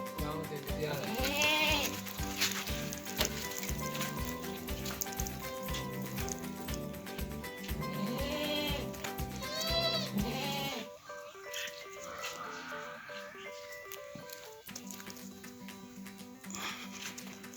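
Goats bleat on a village farm in India, repeated wavering cries mixed with other livestock and ambient noise, busier at first and quieter in the later part.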